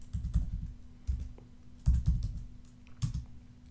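Keyboard typing while renaming an artboard in Adobe XD: soft, close clusters of quick key clicks in short bursts separated by brief pauses, over a faint steady hum.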